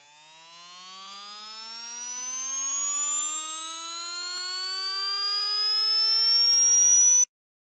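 Simulated electric motor with dynamic eccentricity, a rising whine carrying a dense stack of many higher harmonics that sound buzzier and richer than a clean tone, climbing steadily in pitch, loud and alone, ending abruptly.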